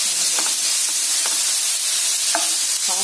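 Half-fried cauliflower crackles in a little hot oil with a loud, unbroken sizzle heard close by, and a few light utensil scrapes and taps from stirring.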